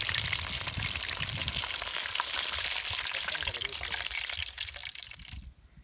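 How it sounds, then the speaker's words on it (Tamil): Mint chicken tandoori fry crackles and sizzles loudly in a pan, a close, constant hiss that tapers off and fades to quiet near the end. "இப்போ இது நல்லா ஃப்ரை ஆகுது"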